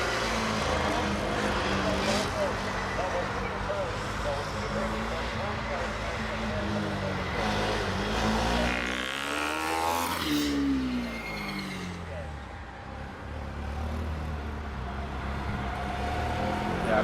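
Formula Student race cars run the endurance event at Alpe Adria, with a steady engine drone and one car sweeping past mid-clip in a rising then falling whine, while commentators talk over the track noise.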